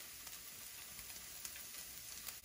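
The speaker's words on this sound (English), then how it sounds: "I have this sauteing for 8 minutes on a medium to low heat because you do not want your onions to burn" Onions saute over medium-low heat in a pan, giving a soft, even sizzle with light crackling pops throughout and no voices.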